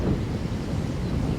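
Strong wind blows outdoors beside a small creek in front of a municipal center, pounding the microphone with a constant, close, low rumbling roar and no speech.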